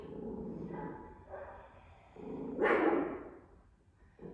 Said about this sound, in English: my dog hears somebody outside, another dog